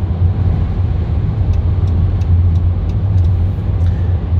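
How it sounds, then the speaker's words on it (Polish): Inside a Chrysler Town & Country with a 3.6 V6 cruising at about 120 km/h, a loud, steady low engine drone and road rumble fill the cabin, with faint wind and tire noise above. "Cały czas jadę z prędkościami około 120 km na godzinę"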